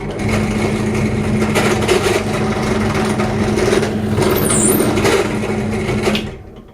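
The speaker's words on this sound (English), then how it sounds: "I've got a 5mm drill bit in the drill press. I'm just going to" A steady mechanical whir of a drill press running a 5mm bit for several seconds, loud and close, with a brief high squeal near the end before it winds down.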